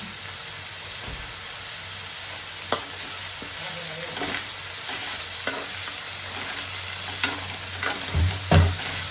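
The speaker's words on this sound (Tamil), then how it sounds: "ஃபஸ்ட்டு வெங்காயம் போட்டு நல்லா வதக்கிக்கோங்க, நல்லா ப்ரௌன் ஆகிற வரையும் நல்லா வதக்கிக்கோங்க." Onions fry and sizzle in a pan for a Tamil squid gravy, giving a steady close hiss with occasional scraping stir strokes and a louder clatter near the end, with no talking.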